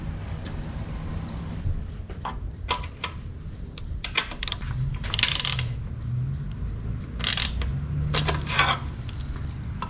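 A small M5 bolt and locking nut are tightened through a cotter pin eye on a fly screen mount on a Suzuki DR650 motorcycle. Close metallic clicks and ratcheting taps come in irregular clusters over a low steady background hum.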